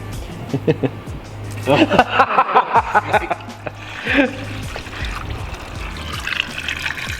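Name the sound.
water flowing while refilling 1980 VW Rabbit Pickup cooling system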